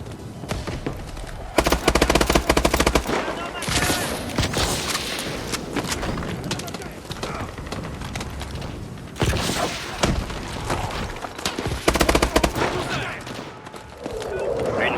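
A mobile gun turret in a war video game fires loud sustained bursts, heavy rapid gunfire with thumps and booms in between.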